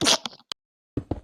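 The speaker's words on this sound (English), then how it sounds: "I sneezed again." A single close sneeze bursts out at the start, followed by a short click, a brief silence and then a couple of low, muffled thumps.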